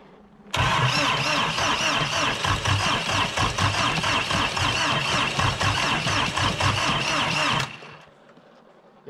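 Old diesel engine cranking and catching in a cold start, running in a loud rough rhythmic clatter for about seven seconds before abruptly stalling and dying away to quiet.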